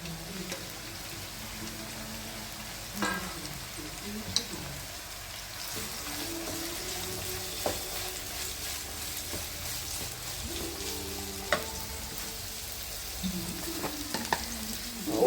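Onions and green chillies sautéing with salt in a pan, a continuous close sizzle broken by frequent stirring scrapes and occasional clinks of a spoon against the pan.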